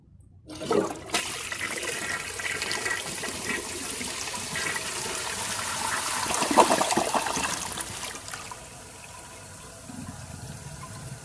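A 2016 Toto Drake toilet with a blocked siphon jet flushes after a quiet start, giving a steady rushing roar that swells near the middle and then fades into a softer trickling refill.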